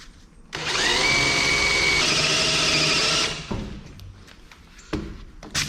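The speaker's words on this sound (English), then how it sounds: "it's just simple drilling, putting the screws in" A power drill drives screws into the floor of a storage trailer, one loud sustained whirring burst lasting about three seconds, followed by a few quieter thumps and clicks.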